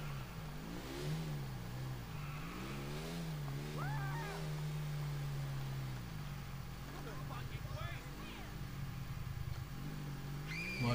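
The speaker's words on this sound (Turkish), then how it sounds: "Vay be, içeriye de motorla girdim ha." Motorcycle engine in GTA IV, a steady low hum with rising and falling revs as the bike rides, mixed under someone talking in Turkish and other game sounds.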